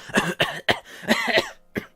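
A person imitates a coughing fit, with a rapid series of harsh, close coughs and raspy breaths, ending in one last short cough.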